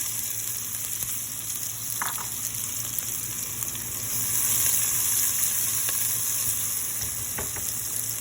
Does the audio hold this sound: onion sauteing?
yes